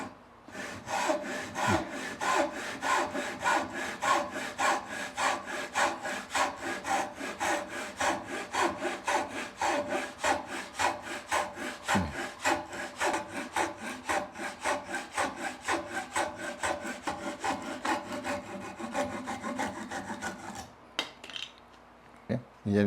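A traditional Korean hand saw cuts through wood in steady, rapid back-and-forth strokes, a continuous rasping rhythm close to the listener for about twenty seconds before the strokes stop and a few small knocks follow.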